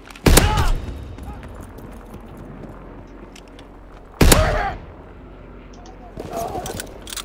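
Gunfire in Call of Duty WW2, two sharp, loud shots several seconds apart followed by a softer burst of activity, with a voice talking in the background.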